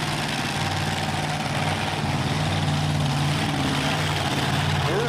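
A tractor idles at a truck and tractor pull in Franklin County, Pennsylvania: a steady, loud, low rumble that runs throughout, with crowd noise in the background.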